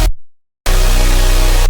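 A layered supersaw synth chord stack with bass, dry and unprocessed, cuts off briefly to silence and then returns as a loud sustained wall of sound.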